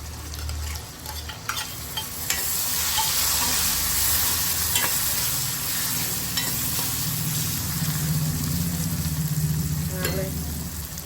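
Tomatoes sizzle and fry uncovered in a pan for a mixed vegetable dish, with a steady frying hiss and occasional scraping from a spoon stirring close by; no one speaks.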